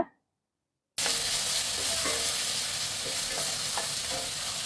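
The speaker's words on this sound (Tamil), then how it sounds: "அதையும் சேர்த்து நல்லா வந்து வதக்கி விடுங்க." Chopped onions sizzling and frying in hot oil in a pan with garlic and cumin, a steady loud sizzle with occasional stirring scrapes, starting abruptly after a brief silent moment.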